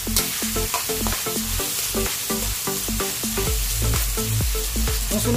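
Chicken being stir-fried in a pan for ginisang togue, with steady loud sizzling and the scrape and clatter of a utensil stirring throughout, and no talking.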